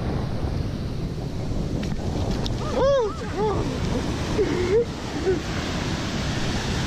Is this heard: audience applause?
no